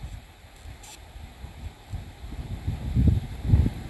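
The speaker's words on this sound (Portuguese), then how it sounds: "O vento tá forte demais." Strong wind buffeting a mini drone's microphone over a country property, producing low, gusty rumbling that swells louder toward the end, with a faint whine above and no talk.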